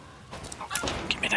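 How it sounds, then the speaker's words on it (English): Video game chickens clucking in short, quick bursts over a quiet background, close and fairly soft. "I hear chickens."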